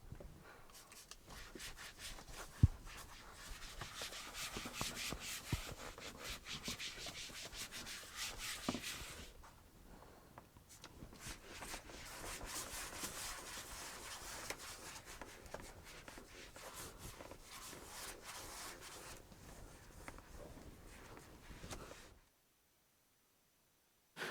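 A microfiber cloth rubs quick detailer over car plastic trim in a close, steady dry scrubbing hiss, pausing briefly midway and stopping abruptly at the end.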